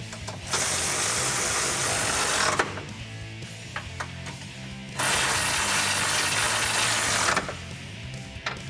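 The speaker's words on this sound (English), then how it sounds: "I'm going to be using that 18mm deep socket, my electric ratchet for the outside bolts." An electric ratchet fitted with an 18mm deep socket spins off Jeep Wrangler JK front bumper bolts. It gives two long, steady whirring runs separated by brief quieter clicking, close and loud.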